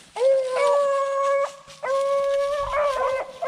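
Hunting dogs tracking a cottontail rabbit howl in long, drawn-out baying notes, two or three sustained cries in a row, loud and fairly close, with a brief gap between them.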